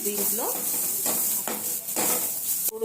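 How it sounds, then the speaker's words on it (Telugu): Coriander powder and paneer masala fry in a pan for paneer curry, a quiet sizzle broken by several distinct stirring scrapes at a steady pace, with a sharp clatter near the end. "ధనియా powder, 1 table spoon paneer masala వేసి కాసేపు ఇలా ఫ్రై చేసి"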